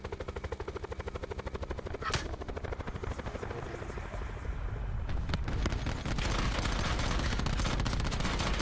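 A helicopter flying in a multiplayer shooter video game, its steady rotor chop carrying loud and continuous throughout, with bursts of gunfire-like crackle toward the end.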